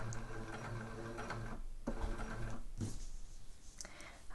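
A sewing machine stitches the neckline of a dress, a steady mechanical whir with rhythmic clatter that briefly dips and resumes, heard close and alone at low volume.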